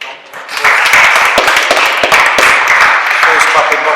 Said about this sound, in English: First clap in boxing I've had, so may that continue.